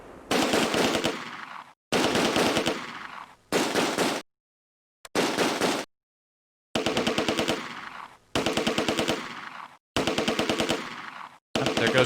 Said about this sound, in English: Machine gun team is just the guy with the machine gun